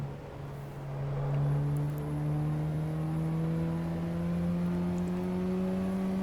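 Street car engine in the Assetto Corsa EVO driving game, a steady droning tone that climbs gradually in pitch as the car accelerates, continuous and fairly close with no talk.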